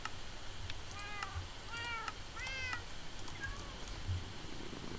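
A cat in Minecraft meows four or five times in quick succession, clear bright mews over a steady hiss of game background noise, with no talking.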